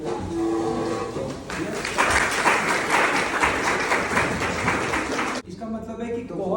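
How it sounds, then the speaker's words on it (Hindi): A standing ovation for students at a hospital pharmacy event: a speaker's voice gives way to a loud, dense wave of clapping from the audience that cuts off sharply, then talking resumes. "खड़े हुए तालियां"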